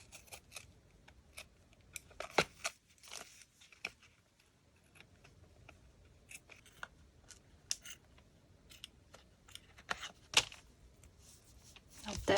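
Scissors cut through sticky fabric in uneven bursts of short, sharp snips and rasps, close and fairly quiet, with gaps between cuts and occasional talking alongside.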